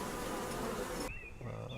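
Bees buzz around beehives on a bee farm, a dense close droning swarm that cuts off abruptly, leaving a faint hum.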